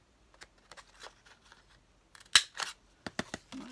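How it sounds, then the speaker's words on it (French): Scissors snipping small stars out of paper for a scrapbooking shaker card. The clip has a run of quiet, irregular close snips, then a few louder sharp cuts, with no talking. "Donc on va mettre peut-être des petites étoiles. Voilà, on va en découper quelques-unes."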